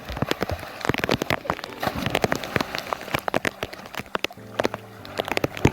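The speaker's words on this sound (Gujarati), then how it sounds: "અને વરસાદ આવવાનું શરૂ થઈ ગયું છે" Rain falls and splashes onto wet ground and water, with dense irregular drops and patters, some sharp and close, continuing steadily without talk.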